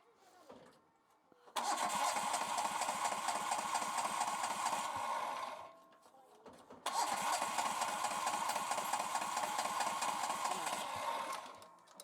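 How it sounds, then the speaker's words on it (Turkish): A Bolat FM 25 engine cranks, catches and roars loudly, runs for a few seconds, drops back, then fires up again into another sustained, rough running stretch, close by. "Motor çalıştırmaya çalışacağız."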